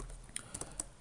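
Quick, light keystrokes on a computer keyboard while entering HTML code, a short burst of four or five clicky taps, close and fairly quiet with no voices.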